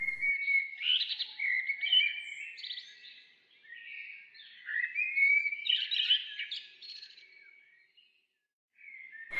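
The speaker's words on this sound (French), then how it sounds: "Des moineaux qui nourrissent leurs petits." Sparrows chirp and twitter in dense, overlapping bursts while feeding their young, a busy chatter of bright calls that pauses briefly near the end before resuming.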